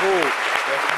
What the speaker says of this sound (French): Je pense qu'on devrait encore vous applaudir pour ça.